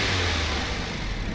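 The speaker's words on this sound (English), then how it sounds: "Sounds like turbo flutter." A turbocharged Honda Civic R18 engine revving steadily with a thick, constant drone and a faint fluttering texture from the turbo, loud and close throughout the brief moment.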